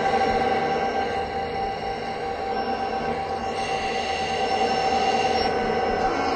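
SD40-2 diesel locomotive in the Trainz game, a steady rumbling drone with faint metallic tones, constant and moderately loud throughout.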